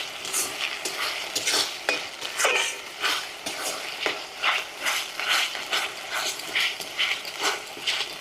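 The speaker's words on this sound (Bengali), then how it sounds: "আদা রসুনের কাঁচা গন্ধ যাওয়া অবধি একটু ভাজা করে নিব মশলাটা" Ginger-garlic paste and dried red chilli paste sizzle in a pan over browned onions while a spatula scrapes and stirs them in a steady repeating rhythm, loud and close, with no voices.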